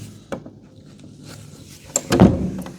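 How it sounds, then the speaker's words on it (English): An interior door with a strength-training anchor strap over its edge is pulled shut with a soft scrape, then closes with a solid thunk near the end, and a few light knocks come before it. "And then you pull the door shut"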